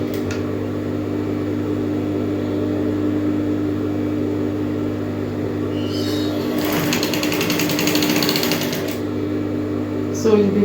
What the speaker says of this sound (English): So this is where I'm going to sew down